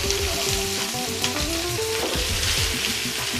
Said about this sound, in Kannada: ನೋಡಿ ಈರುಳ್ಳಿ ಎಲ್ಲ ಸ್ವಲ್ಪ ಕಂದು ಬಣ್ಣಕ್ಕೆ ಟರ್ನ್ ಆಗಬೇಕು, ಅಲ್ಲಿವರೆಗೂ ಇದನ್ನು ಚೆನ್ನಾಗಿ ಹುರಿಯೋಣ